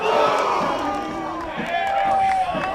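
College baseball players cheer and shout together from the team dugout after a home run, with rising whoops and yells over crowd noise and an announcer talking.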